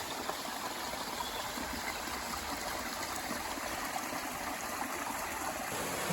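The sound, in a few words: small waterfall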